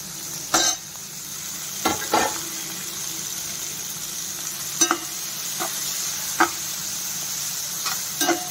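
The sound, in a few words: tomatoes frying and being stirred in a pan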